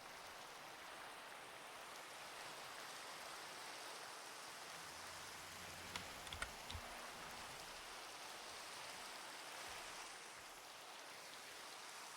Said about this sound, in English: Oh, and now it's raining.